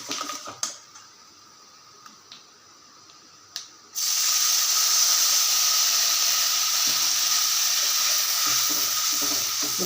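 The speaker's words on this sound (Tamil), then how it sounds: "கரைச்சி வச்ச புளி தண்ணியை இதில் ஊற்றிக்கலாம்." Tamarind water is poured into a hot pan of tempering for puliyodharai, cutting off a few faint clinks and setting off a sudden loud, sustained sizzling hiss that stays steady to the end.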